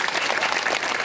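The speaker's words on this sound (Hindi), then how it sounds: "एक बार ताली हो जाए जोरदार।" Audience clapping at a devotional Manas recital in India, dense, loud crowd applause filling the short moment without a break.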